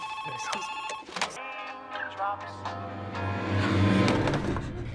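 A phone rings at a gas station with a bright electronic ringtone melody of repeated tones, close by and fairly loud.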